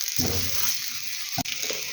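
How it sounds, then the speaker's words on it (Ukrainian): Slices of eggplant being fried for pickling sizzle loudly and steadily in hot oil in a pan, with two brief soft knocks of handling over the constant hiss. "Ну от я бачу, що і з другої сторони смажилися."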